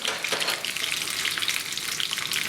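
Mustard seeds, cumin and cashews crackle and sizzle loudly in hot ghee, a dense close popping hiss throughout with no voices.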